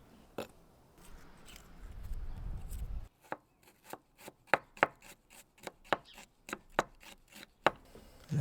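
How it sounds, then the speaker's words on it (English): Shallots being chopped with a handmade knife on a board: a quick run of crisp, sharp knife strikes, close and clear, following a stretch of low rumbling handling noise. "And some shallots using the knife that you just made."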